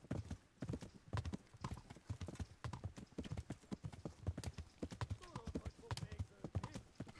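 A horse galloping in the medieval video game Kingdom Come Deliverance, a rapid, close, rhythmic run of hoofbeats with a possible whinny, under a person talking.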